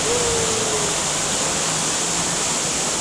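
A waterfall at Discovery Cove in Orlando, Florida, gives a loud, dense, unbroken hiss of falling water, close and steady, with no voices.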